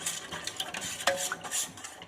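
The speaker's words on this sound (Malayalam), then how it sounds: "ഇളക്കി ഇങ്ങനെ കട്ട പിടിച്ച് കിടക്കാതെ നന്നായിട്ട് ഈ പൊടി ഇതിനകത്ത് മിക്സായി വരുന്നിടം വരെ നമ്മൾ നന്നായിട്ടൊന്ന് ഇളക്കിയെടുക്കുക" A spoon stirs ragi flour into water in a bowl, making quiet, close scraping and light clinking against the bowl's sides in a brisk, irregular rhythm, with no talking.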